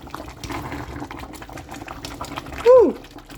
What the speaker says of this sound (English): And then you cover so that it will boil godo godo godo.